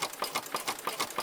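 Sewing machine stitching a crib comforter with a long 4.5 length stitch, a fast steady mechanical whirring and clatter of rapid pulses, close and fairly quiet, with no talk.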